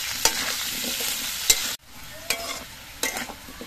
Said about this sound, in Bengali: এই নুনটা দিয়ে আমি আলুটা ভেজে নেব।